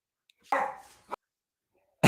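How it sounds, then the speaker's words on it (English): A guard dog in a house barks as a visitor arrives: one clear bark, a short second yelp, then another bark cut off at the end, close and fairly quiet with silence between. "their guard dog is doing, all the job that needs to be done to make him aware that somebody's coming in the house"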